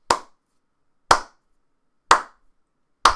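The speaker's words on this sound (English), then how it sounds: "that's not even a sarcastic slow clap" A single pair of hands gives a slow clap: four sharp, close claps spaced about a second apart, with clean silence between each one.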